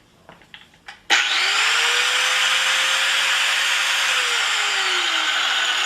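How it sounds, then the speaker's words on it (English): An angle grinder spins up with a sharp onset after a few light knocks, then holds a loud, steady, high-pitched whine as it cuts into a surface, its tone sagging slightly under load before recovering, with no talking. "Angle grinder is a very strong and dangerous tool"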